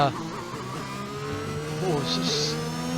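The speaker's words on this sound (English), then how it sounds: "does it sound like they've run out of fuel? Perhaps just under revving the car." A race car's engine in a PC racing game at the Bahrain Grand Prix drones at a steady, slightly low pitch, then rises a little, loud and continuous throughout.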